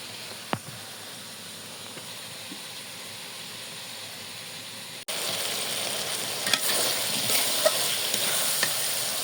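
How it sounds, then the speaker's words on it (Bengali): New potatoes and eggplant stirred and sautéed in a pan for a shing fish curry, a quiet hiss that jumps to a louder, steady sizzle halfway through, with a few sharp scrapes of the spoon. "সবজিটা ভালো মতো কষানো শেষ, সবজিটা প্রায় সিদ্ধ হয়ে আসছে"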